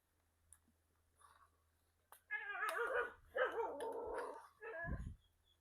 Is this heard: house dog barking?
yes